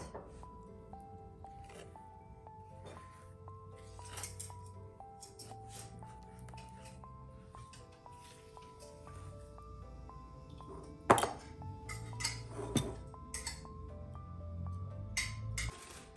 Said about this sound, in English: Going to use this brush to mix it in